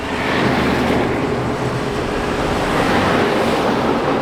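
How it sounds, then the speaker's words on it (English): Old, loud trucks rumble past on an old road in Iran's desert region, a steady, close, broadband engine and road roar holding throughout with no talk. "this old road is still the go-to road of pretty much all the old, loud, noisy trucks that are gonna pass in 3, 2, 1."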